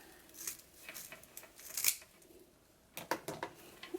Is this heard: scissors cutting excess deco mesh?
yes